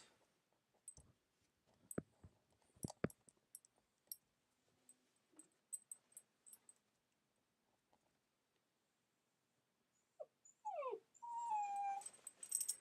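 Dogs in a backyard give soft scattered whimpers and yips among faint clicks, quiet and intermittent, ending in a rising run of whines.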